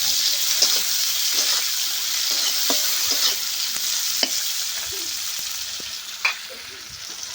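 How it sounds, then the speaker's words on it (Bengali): Onion and tomato sizzling in a pan while a spatula stirs them, with steady frying hiss and scattered scraping clicks and knocks throughout. "একটু ভালো করে নেড়ে নেব।"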